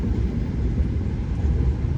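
The Senja Utama Solo passenger train on Indonesia's northern double-track line gives off a steady, loud, low rumble that fills the whole stretch evenly, with no voices heard.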